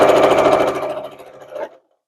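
A sewing machine stitches bias binding along a curved edge, a loud close rapid mechanical run that slows and fades, then a brief final burst before stopping.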